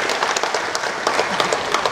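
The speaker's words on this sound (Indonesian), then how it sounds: "Sekali lagi saya minta tepuk tangan." A crowd at the launch event for Jakarta's Smart City app gives a brief burst of applause, a steady wash of many hands clapping at moderate volume.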